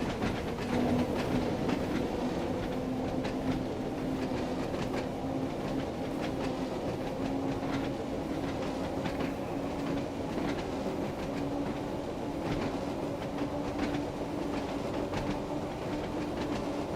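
A heritage train runs at full throttle at about 24 mph, a steady, loud rolling rumble with rhythmic clickety-clack of wheels on the rails and a constant low drone from the engine, heard from on board.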